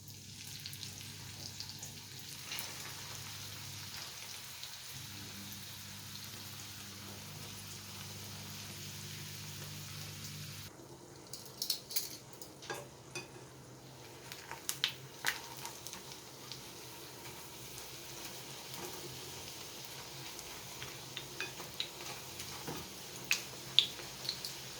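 Squash spring rolls (lumpiang kalabasa) frying in oil, a quiet steady sizzle that turns livelier about halfway through, with scattered crisp pops and spatters and no talking.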